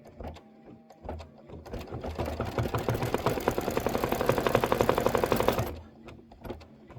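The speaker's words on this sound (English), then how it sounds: "it's stitching the outline of all those delicious blueberries" An embroidery machine stitches the outline of blueberries, a steady rapid mechanical whirring and ticking that builds, runs continuously for several seconds, then stops.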